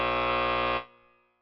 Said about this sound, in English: We're going to give Tony the buzzer.